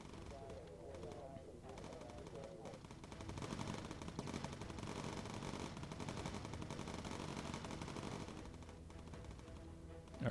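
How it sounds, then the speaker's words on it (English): Dense, continuous rattle of machine gun fire from bomber turret guns in the Bomber Crew video game, steady and busy throughout with people talking over it. "All right, Neuhauser, get on the top turret gun"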